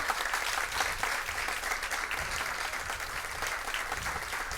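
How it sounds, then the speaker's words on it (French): An audience applauds the winning lycée team at a school quiz match, a dense, even roar of clapping that holds steady from start to finish. "Encore une fois, je vous demande de les applaudir."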